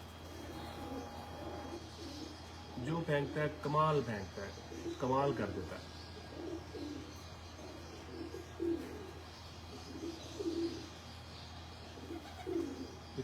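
Grey pigeons in a breeder's loft give soft, low, repeated coos, mostly after a man's close speech ends, with a steady faint background.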